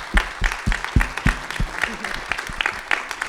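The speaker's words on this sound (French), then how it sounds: "On peut l'applaudir." An audience at a short film festival screening bursts into applause for the lead actress, a dense run of claps at close range filling the room.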